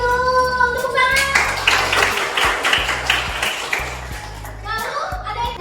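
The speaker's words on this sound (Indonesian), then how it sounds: "Betul, tepuk tangan" Classroom schoolchildren burst into a round of clapping after a correct answer, a dense stretch of hand claps about four seconds long, with children's voices chattering before and after it.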